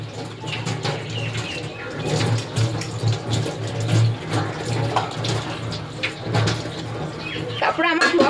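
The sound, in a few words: washing items under running tap water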